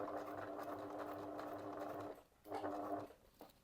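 A sewing machine stitching fabric for a small coin purse runs at a close, steady whirring pace, stops briefly, then stitches again in a short second burst.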